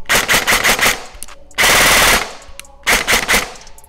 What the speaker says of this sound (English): Now, taking a couple shots,